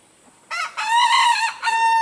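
A jungle fowl rooster crows once on a homestead, a short lead-in call followed by a loud, clear, drawn-out cock-a-doodle-doo heard close by and on its own.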